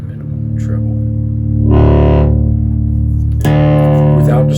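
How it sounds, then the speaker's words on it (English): Electric guitar played through a 1974 Electro-Harmonix Blackfinger with guitar and pedal tone set to maximum bass and minimum treble: sustained dark, bassy notes ringing close, a second note struck partway, with no talking. "Turn your guitar and Blackfinger tone controls for maximum bass and minimum treble."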